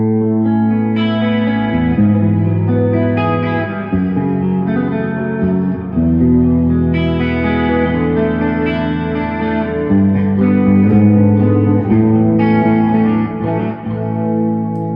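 Electric guitar ballad played through a Carl Martin Headroom Mini reverb pedal, a steady sustained stream of chords and melody lines with a lush, lingering wash of reverb throughout, loud and with no talking.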